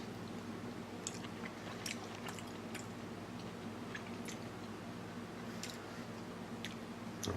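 Close, soft chewing of a bite of cooked dandelion greens, with faint wet clicks and crunchy ticks scattered over a steady low background hum, no talking.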